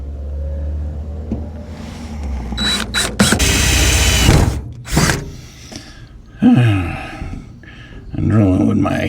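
Power drill boring holes in truck tank brackets while installing train horns on a Volvo VNL860, with loud bursts of whirring drilling and ratcheting mechanical noises interrupted by pauses and clanks.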